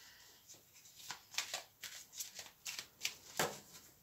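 Tarot cards being shuffled by hand before a reading: soft, close riffling and flicking in quick irregular bursts over a few seconds, fairly quiet, with no talking.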